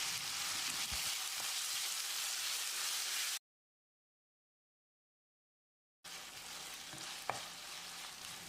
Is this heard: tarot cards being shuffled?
no